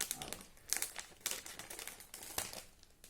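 A snack package from a Japanese snack box is cut open, making close crinkling and crackling plastic noises in several short, uneven bursts with no voices.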